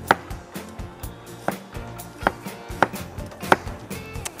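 A knife chops vegetables on a cutting board for a Thai instant-noodle cooking dish, giving about eight sharp, close taps at an uneven pace with faint background noise between them.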